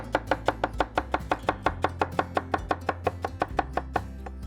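Knife chopping celery on a cutting board, a steady run of about twenty crisp, evenly spaced chops, close and clear with no talking.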